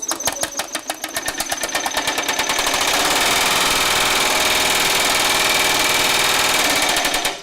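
A Baileigh MH-19 variable speed power hammer pounds sheet metal, its rapid blows starting as distinct strikes and speeding up into a loud, continuous mechanical hammering close by.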